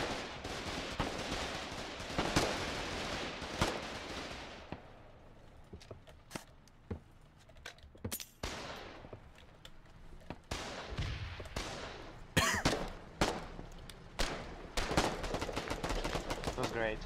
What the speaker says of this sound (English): Keep firing guns. Keep firing sonic guns.